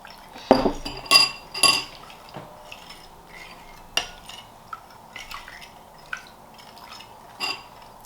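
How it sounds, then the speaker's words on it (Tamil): Jelly cake ingredients are mixed in a bowl, with a spoon or whisk giving sparse, quiet clinks and scrapes against the bowl and a few sharper knocks near the start. "அதுக்கு பிறகு இதை இதுக்குள்ளே கொஞ்சம் கொஞ்சம் ஆட் பண்ணி மிக்ஸ் பண்ணுங்கள்."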